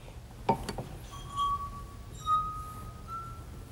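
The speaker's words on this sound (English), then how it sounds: "Now notice this glass, in spite of the fact that it's almost full to the very top, it's the high note." A drinking glass filled almost to the brim with liquid is made to sing: a few light clinks first, then two sustained, clear high ringing tones that swell and hold, the second rising slightly in pitch, with no talk.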